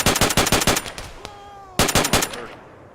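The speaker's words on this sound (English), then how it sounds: "Shooting at us now." Bursts of automatic rifle fire from enemy soldiers in the military video game Arma, loud rapid volleys in two clusters separated by a short gap with a single shot and a ringing tone between.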